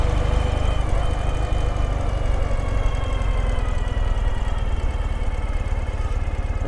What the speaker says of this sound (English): Very smooth running engine.